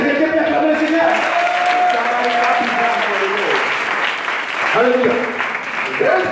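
Congregation applauding during a church service: steady, full clapping continues throughout, with voices calling and singing over it.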